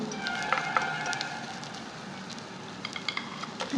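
Garlic and ginger frying in hot oil on a gas stove, a soft steady sizzle with occasional crackles and light stirring taps.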